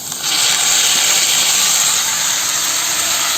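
Chopped amaranth greens drop into a hot pan and set off a loud, sustained hissing sizzle that holds steady throughout, with no talk over it.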